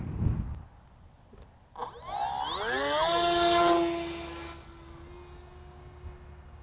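Small FPV model plane carrying a Foxeer Monster Mini Pro camera, its electric motor whining up sharply in rising pitch as it launches and climbs, loud and close, then easing to a steadier, quieter drone as it flies away.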